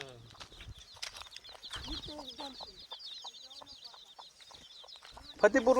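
Free-range village hens cluck and chatter in bursts at close range, with faint bird chirps and a person's voice in the background.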